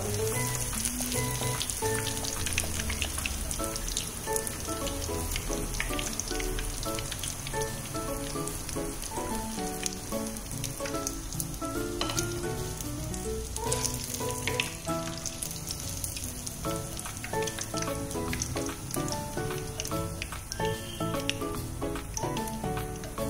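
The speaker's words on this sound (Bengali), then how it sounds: "আমাদের পকোড়া ভাজা হয়ে গেছে, খুব সুন্দর ভাজা হয়েছে" Small shrimp pakoras deep frying in hot oil, a steady, close, crackling sizzle that continues throughout with no talk.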